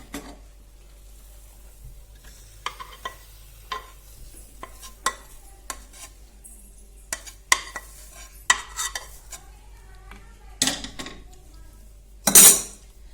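Sticky homemade amla sweet is scraped and pressed onto a ghee-greased metal plate, a loud sequence of irregular clinks and scrapes of a spoon on steel, with a harsher burst of scraping near the end.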